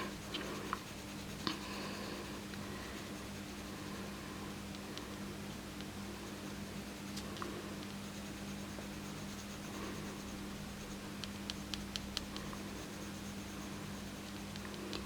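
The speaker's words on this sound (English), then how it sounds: "I'm going to use my black Prismacolor pencil, and I'm going to go in those areas that are very dark" A black Prismacolor pencil drawing on paper, a soft continuous scratching and scribbling close to the mic, with occasional light ticks and taps over a quiet background hum.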